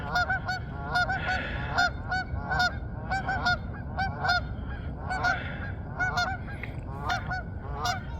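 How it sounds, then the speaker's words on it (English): Geese sounding an alarm call, a flock honking repeatedly in loud overlapping bursts throughout, with gulls nearby in an open outdoor setting and a steady background rumble beneath. "That's the alarm call of the"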